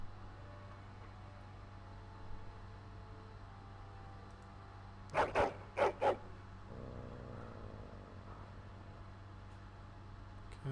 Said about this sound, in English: Angry barking and growling.